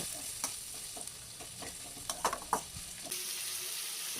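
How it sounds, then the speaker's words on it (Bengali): Vegetables sizzle in a pan for hakka noodles, stirred with salt and ground pepper, giving a steady frying hiss broken by a few sharp scraping clinks of the spatula. "এবারে লবণ আর গোলমরিচের গুঁড়ো বেশ কিছুটা দিয়ে আবার নাড়াচাড়া করে"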